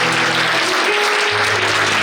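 Loud, dense applause from a church congregation during a Telugu Christian sermon, a steady wash of clapping filling the full two seconds with a low hum beneath.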